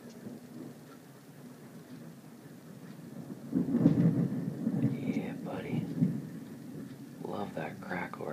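Thunder from a nearby lightning strike in a North West storm in May, a low rolling rumble swelling midway and rumbling on, with faint rain-like hiss behind it.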